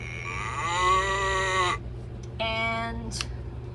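A toy cow plays a recorded moo twice: a long electronic lowing call, a short pause, then a briefer second moo, close and clear.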